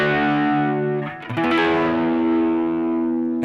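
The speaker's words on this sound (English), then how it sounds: "I guess it kind of sounds like a spinning speaker." An electric guitar plays through a Danelectro effects pedal set to a warbling spinning-speaker tone with light drive, sustained chords swirling with a slow pulsing wobble, a brief strummed flurry in the middle, close and clear.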